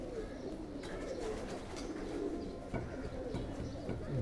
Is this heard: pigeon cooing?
yes